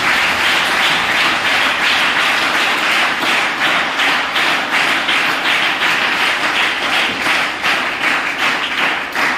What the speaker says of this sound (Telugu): ఒకసారి అందరూ చప్పట్లు కొట్టేసేనా